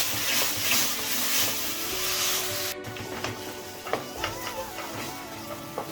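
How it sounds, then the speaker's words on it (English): Tomatoes frying in oil on a high flame while being stirred, with a soft steady sizzle and scraping stir sounds, fairly quiet and close. "And again fry it on high flame until the tomatoes are cooked perfectly"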